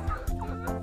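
Backyard pet chickens cluck in a close, steady chatter over a short burst, busy with feed of mango and moringa leaves, with no talk over them.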